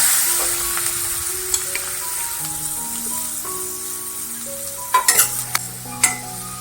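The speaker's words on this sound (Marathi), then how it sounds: "दोन मिनटं कांदा परतून घ्यायचा आहे" Chopped onion sizzles in hot oil with turmeric, chili powder and asafoetida in a pan for bhindi fry, under a steady frying hiss, while a spoon stirs and scrapes with a few clinks near the end.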